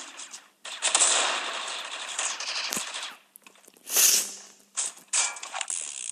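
A mini pistol fires in the mobile shooter Critical Ops, a fast stream of sharp rapid shots over several seconds with brief gaps and a louder burst near the middle, close and dominant.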